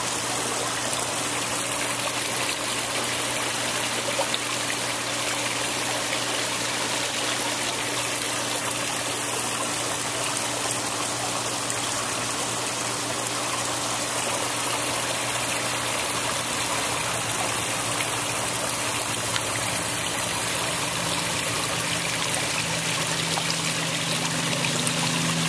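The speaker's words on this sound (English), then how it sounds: "This pond has a Laguna waterfall filter," Water from a Laguna waterfall filter pouring steadily into a koi pond, a continuous close rushing trickle with a low mechanical hum beneath it and no pauses.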